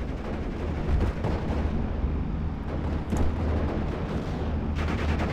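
Artillery fire booms in the World War II strategy video game Steel Division Normandy 44, with dense, continuous heavy rumbling and repeated blasts and gunfire cracking over a battlefield din.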